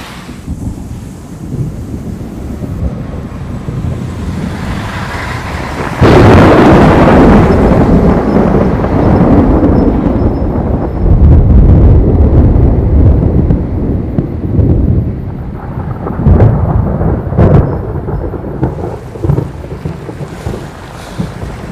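A thunderstorm rolls in with loud booming thunder, gusting wind and a steady rush of rain, the roar swelling sharply partway through and stretching on for long stretches with no talking.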